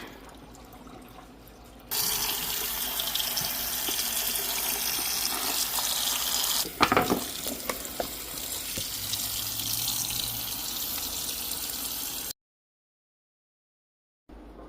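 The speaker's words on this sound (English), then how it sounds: "back again to rinse the lentils, drain out the old water" Water pours steadily from a kitchen tap for about ten seconds as old soaking water is drained off sprouting lentils being rinsed in a sink, with a brief clatter midway before it stops.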